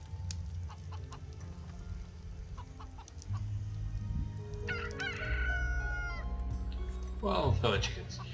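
Cartoonish chicken clucks and a rooster-like crow from the Stonehearth video game, rising in short bursts over a steady low game hum and background music, growing louder toward the end.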